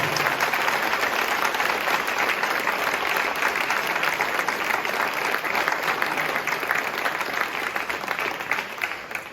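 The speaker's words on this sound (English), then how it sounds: "So give them a round of applause." Dense, steady audience applause fills a high school hall of fame ceremony for a state championship cross-country team, a continuous wash of many hands clapping at close range, holding level throughout with no voices on top.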